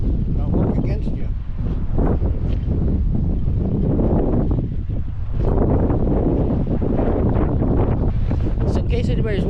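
Wind sweeping across a fishing boat at a dock in Cook Inlet, Alaska, makes a loud, close, continuous buffeting roar that rises and falls in gusts throughout.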